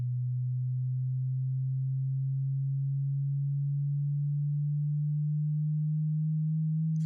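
A low synthesized bass tone holds steady for several seconds, with a gentle pulsing wobble that gradually picks up speed; loud and alone.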